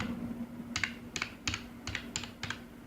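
Keys on a computer keyboard are typed in six short, separate bursts at a steady pace, close and fairly quiet, while entering Control Panel in Windows. A low electrical hum runs underneath and there is no talking.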